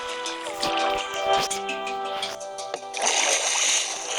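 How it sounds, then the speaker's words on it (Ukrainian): Water released inside a house built in Minecraft gushes and splashes steadily, with a louder surge toward the end, heard alone without talk. "Ось це воду відкрив."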